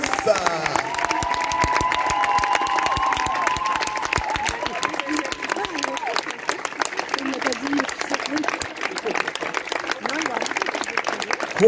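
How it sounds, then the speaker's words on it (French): Crowd applause for a horse at a working equitation world championship, steady clapping mixed with a French announcer's voice over a loudspeaker and a distant whinny-like tone early on. "Vos applaudissements cette fois pour le cheval Silke das les Irias."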